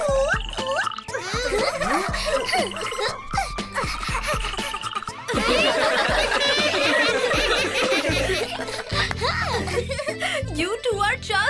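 A cartoon frog croaks loudly in a busy animated scene, its calls mixed with snickering laughter, music and character voices throughout.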